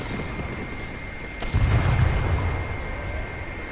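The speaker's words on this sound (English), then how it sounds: "Oh, someone has airstrikes." Video game airstrike explosions: a deep booming burst lands suddenly and rumbles on loud for about a second, then fades into a steady low roar of game noise.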